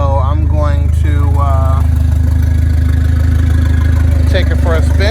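A Starquest car engine runs at a steady, low idle hum close by, with its cooling fans going and a voice talking over it throughout.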